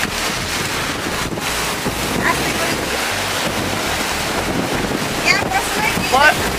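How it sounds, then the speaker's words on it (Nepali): Strong wind buffets the microphone steadily, with waves and water noise underneath and faint voices now and then, on Cheung Chau Island, Hong Kong, near rock formations. "बढी हावा आयो।"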